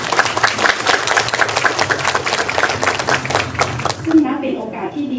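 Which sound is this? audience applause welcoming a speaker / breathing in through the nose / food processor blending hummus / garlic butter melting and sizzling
audience applause welcoming a speaker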